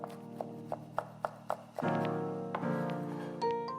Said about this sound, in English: Finely chop 2 long green chili peppers.